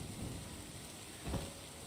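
Video game rain in Terra Nil, a dense, steady patter heard alone at low volume. A single low thunder rumble swells briefly in the middle and then fades back into the rain.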